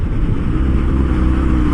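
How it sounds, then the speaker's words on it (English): A warmed-up motorcycle engine idles steadily at close range, a low, even rumble with no revving and no talk over it. "When it idles, now that the bike is warmed up, it idles about"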